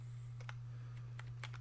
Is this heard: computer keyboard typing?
yes